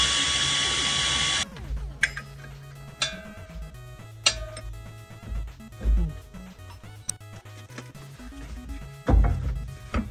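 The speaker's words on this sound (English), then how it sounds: "Cracking them loose by hand, then I'll go around with the air ratchet" An air ratchet works on nuts, loosening them on a Toyota Celica Supra rear end: a loud continuous whir for the first second and a half, then scattered clicks, clunks and short rattling bursts of tool handling.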